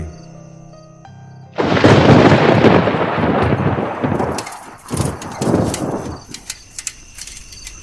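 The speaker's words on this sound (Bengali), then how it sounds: "যা বিদ্যুৎ চমকাচ্ছে বৃষ্টি নামবে মনে হয়" Thunder in a rural Bengali ghost story set on a stormy night in a forest: a sudden loud crack bursts in after a quiet tonal lead-in, then breaks into rolling, fading rumbles with no voices.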